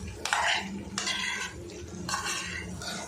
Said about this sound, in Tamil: நல்ல முட்டையில் பார்த்திங்கன்னா நல்ல மசாலா பிடிக்கிற மாதிரி அதை மிக்ஸ் பண்ணிக்கிறேன்